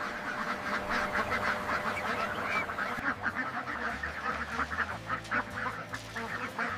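Ducks raised for feathers on a farm quack and honk in a constant loud chorus from a large flock inside a barn, with a low machine hum running underneath.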